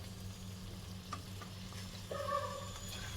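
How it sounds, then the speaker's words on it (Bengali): Chicken pieces already fried in butter are stirred into masala in a pan, giving a quiet sizzle with scraping and stirring and a brief louder hiss near the end. "এবারে আমি বাটারে ভেজে রাখা যে চিকেনগুলো সেগুলো এর মধ্যে দিয়ে এবারে এটাকে ভালো করে কষবো"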